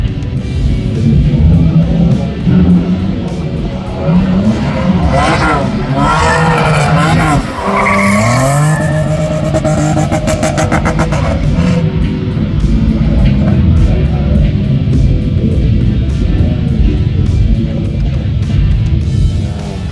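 A drift car slides with its throttle modulated to keep it spinning, a loud sustained engine roar and tire squeal running throughout with shifting pitch, voices faintly underneath.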